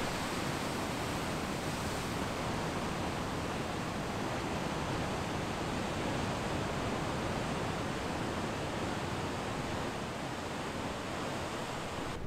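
Huge surf waves crash onto a sandy beach on a South American coast in a constant, heavy roar of breaking water and wind, with no voices.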